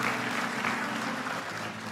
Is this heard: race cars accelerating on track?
no